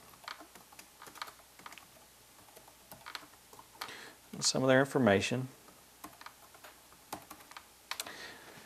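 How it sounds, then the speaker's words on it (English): Computer keyboard typing while entering data into a spreadsheet, soft irregular key clicks running throughout at low level, with a brief stretch of speech in the middle. "I'm just going to type a little bit of data in here that's going to be used for our chart"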